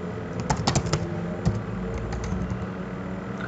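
Fingers type a bank login password on a computer keyboard, a quick burst of close, crisp key clicks at first, then a few scattered taps over low steady background hum.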